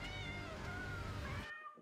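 A cat meows in one long, loud, drawn-out wail close by, sounding on its own before it cuts off abruptly.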